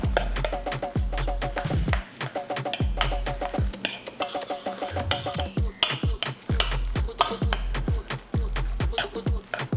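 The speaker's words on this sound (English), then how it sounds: "Get that stirred up." A spoon stirs vegan mayonnaise and mustard in a bowl, producing a rapid, steady series of thick, wet scraping strokes with light clinks against the sides, close and fairly loud.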